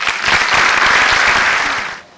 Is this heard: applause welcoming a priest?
yes